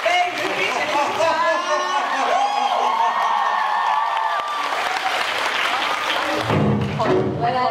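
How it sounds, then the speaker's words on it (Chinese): A school cultural festival audience claps and cheers to welcome performers on stage, a dense burst of applause that swells toward the end while an amplified host's voice carries over it. "用热烈的掌声欢迎飞云冰淇淋家"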